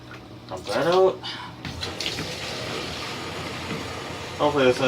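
A bucket of water is dumped into a bathtub in a steady rushing pour lasting a couple of seconds, with a person talking briefly before and after.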